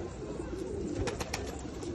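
Pet pigeons coo softly and steadily in a close, continuous murmur, with a few faint higher chirps over a low background hum.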